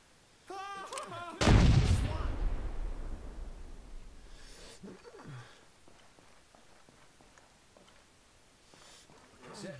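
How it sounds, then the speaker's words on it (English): An explosive charge detonates in the video game ArmA 3, a loud sudden boom followed by a long rumbling decay, with a voice speaking just before the blast and more game sounds after it. "Setting charge. Prepare for detonation."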